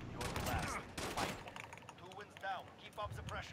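Gunfire in the Modern Warfare video game, several sharp shots with one loud burst near the start and further shots trailing through, under game effects, with no clear talk.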